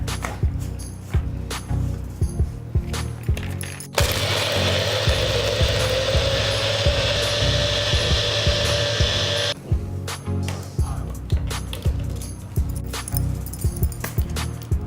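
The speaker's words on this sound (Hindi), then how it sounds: "मैंगो स्क्वैश और बर्फ। इसे इकट्ठा ब्लेंड कर लेते हैं।" A blender whirs steadily for several seconds, mixing mango squash and ice into a mango shake, with a rhythmic clicking, ratcheting pattern before and after.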